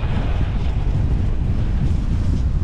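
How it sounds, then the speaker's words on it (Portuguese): Strong wind blowing during a boat ride, a steady, loud, rushing roar buffeting the microphone with no break and no voices. "Vento na cara!"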